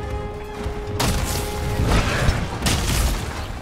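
A Gun Lance fires in the video game Monster Hunter, sharp explosive booms with crashing impacts in quick succession over a dense, loud game soundscape.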